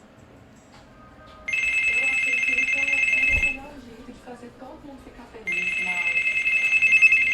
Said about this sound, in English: that is the alarm telling me that my wife has ordered something on Amazon